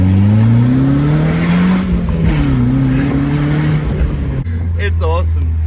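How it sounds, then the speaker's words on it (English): A 1997 BMW Z3 roadster engine pulls hard under acceleration, its loud droning note rising and falling through the revs before a sudden shift to a steadier low tone, with a brief squealing burst near the end. "the noise when you really lay on this car is incredible"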